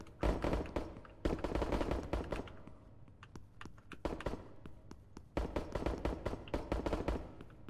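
A shotgun fires in a video game in rapid, heavy bursts of booming shots with short gaps, loud and close, among other game noise.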